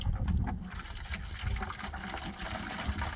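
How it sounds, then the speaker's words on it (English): Vinegar pours steadily into a container over dirty railroad spikes, a close, continuous liquid trickle and splash lasting a few seconds, fairly quiet and mostly alone. "So, you just pour the vinegar in."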